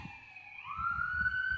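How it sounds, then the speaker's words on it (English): An ambulance siren rises and holds a wailing tone as it passes on the road, fairly faint and distant, with a low rumble of traffic underneath and no speech. "Ambulance."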